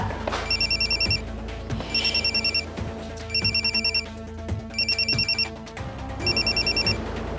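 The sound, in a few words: telephone ringing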